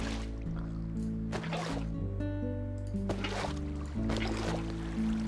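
A basin being filled with water in Minecraft: soft liquid splashes and trickling water placements recur over a steady background of low, droning game music.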